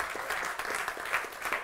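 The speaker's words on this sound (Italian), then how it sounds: "un applauso" Audience applause at a talk, moderately quiet clapping from a modest crowd with uneven, choppy bursts throughout.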